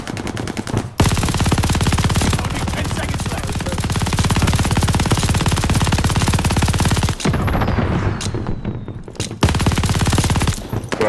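A maxed-out SCG gun fires in long, loud automatic bursts during a video game, a dense rapid stream of shots with only a few short pauses.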